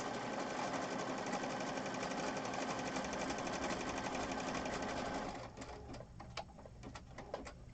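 A sewing machine runs continuously at close range with a fast, even stitching whir for about five seconds, then stops and gives way to scattered clicks and small handling knocks.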